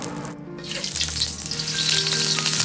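Scallion oil and lard heat in a wok while making a stir-fried mixed vegetable dish with bean sprouts, giving a steady close sizzle that swells slightly louder over a couple of seconds, with a few light clinks.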